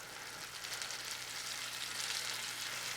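Onion and capers sauté in a pan with lemon juice, giving a faint, steady hiss and sizzle that runs evenly throughout without any voices.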